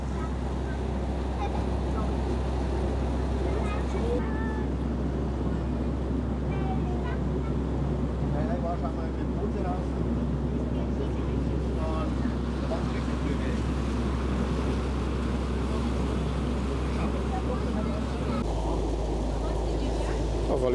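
A tour boat's engine on Lake Chiemsee drones loud and constant beneath rushing water and wind buffeting the microphone, with a voice speaking faintly over it.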